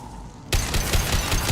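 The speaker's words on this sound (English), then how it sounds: "Taking heavy fire." Heavy gunfire from a firefight in Mass Effect 2, Legendary Edition, bursts in abruptly after a quiet half second and continues as dense, loud, rapid shots for the rest of the clip.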